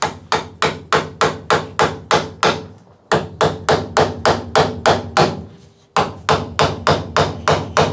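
A tool is smacked repeatedly to cut through strong adhesive on a 240SX quarter glass, giving a steady run of close, sharp hammer blows with two brief pauses.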